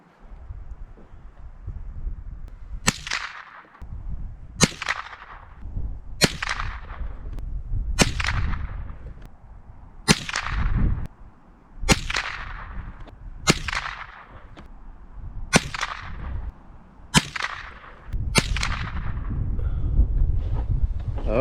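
Ten sharp .22 LR rifle shots firing Aguila Super Extra bulk-pack ammunition outdoors, evenly spaced about every one and a half to two seconds, each a crisp crack with a quick fading tail over a low steady wind rumble.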